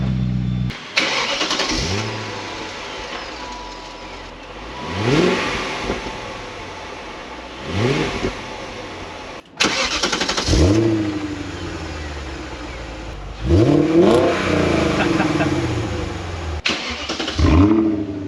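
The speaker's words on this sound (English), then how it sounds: "That's how a V8 should sound." A 2003 BMW 540i V8 with a custom exhaust cranks and fires up, then revs hard in repeated bursts, a deep rumbling burble rising and falling loudly between throttle blips, close by.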